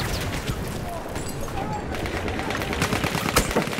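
Gunfire in the video game Battlefield 1 during a Conquest match on the Tsaritsyn map, scattered distant rifle shots and bursts crackling through a dense battle ambience with no clear talk.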